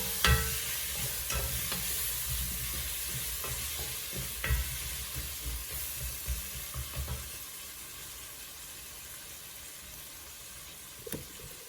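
Beef pilaf frying in a pan while being stirred, a soft steady sizzle with scattered scraping clicks from the spoon, faint and close, no voices.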